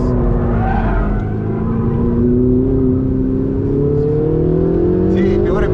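A Ferrari braking hard in a straight line on a track, its engine tone sliding steadily with a strained whine and tyre noise, close and loud, while a person talks over it.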